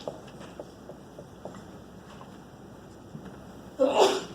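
A single loud sneeze bursts out near the end after a stretch of quiet room noise with faint taps.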